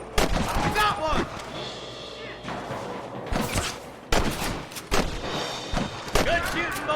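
Gunfire in the Western video game Red Dead Redemption, with sharp repeated shots and rifle cracks in irregular bursts during a shootout, under shouted character dialogue.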